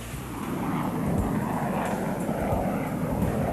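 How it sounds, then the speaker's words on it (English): An F-16 Fighting Falcon fighter jet flying, heard as a steady, broad roar that swells slightly and then holds, with no talk over it. "the F-16 Fighting Falcon is one of the world's most versatile fighters"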